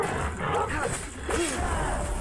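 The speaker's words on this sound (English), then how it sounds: "I just killed your literal dog" A dog barks and whimpers in the video game Enshrouded, with a few short yelps over steady game noise while voices talk throughout.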